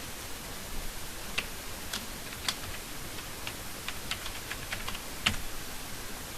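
A file name is typed on a computer keyboard: sparse, light key clicks come at an uneven pace against faint room hiss, with one sharper tap near the end and no voices.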